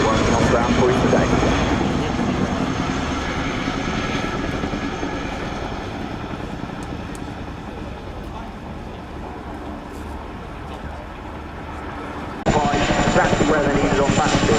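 An RAF Chinook HC6 helicopter flies at an air show, its engines and rotors giving a loud continuous drone that eases slightly then swells again, with a commentator talking over it.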